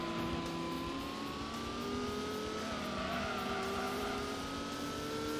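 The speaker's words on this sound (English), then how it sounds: "there goes the Supra" A tuned Toyota Supra race car in Gran Turismo drones with a sustained engine whine that slowly shifts pitch, steady and continuous under a constant road roar, with no speech.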